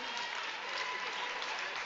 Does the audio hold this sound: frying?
no